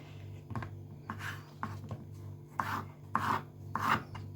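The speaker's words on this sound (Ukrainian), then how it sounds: "ріжу пополам. отак нарізаємо." A knife slicing eggplant into strips on a board, a series of soft rasping cuts that come in uneven strokes, growing longer and louder toward the end, close and quiet with no talking.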